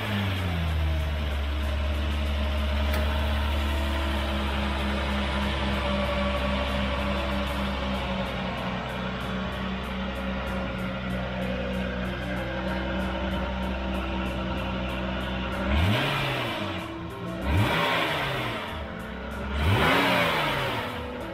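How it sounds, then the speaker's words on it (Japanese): A car engine running on fresh M7 oil at a pro shop in Nagoya, a loud steady drone near the microphone that gives way to three sharp throttle blips, each rising and falling quickly, with no talking. "早速新しいオイルの M7 オイルエンジンかけてみますね。"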